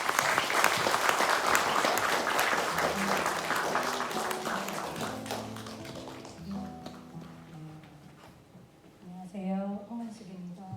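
Applause from an audience at a memorial concert, dense clapping filling the first several seconds then thinning out as music-like tones and a voice begin underneath.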